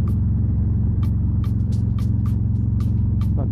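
A large truck roars alongside a Harley-Davidson Road Glide on a highway between Hayward and San Ramon, a loud steady low rumble of engines and wind with scattered sharp clicks and a brief squeal near the end.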